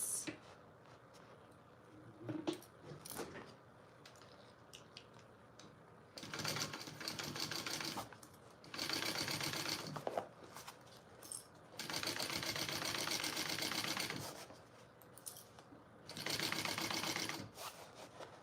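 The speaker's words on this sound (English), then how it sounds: "let's sew this side down first. And I'm gonna do it at that 1/2 inch seam allowance." A sewing machine stitching a bag seam at a half-inch seam allowance runs in several short and longer bursts of rapid mechanical whirring, separated by quiet pauses with light clicks and handling.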